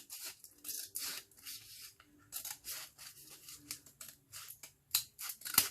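Scissors snip repeatedly through a crinkly brown paper bag, each cut a short crisp rasp, close up with brief pauses between strokes.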